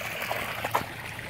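Water trickles and splashes steadily in a garden pond feature, a close, continuous burble with a few brighter splashes and no talking.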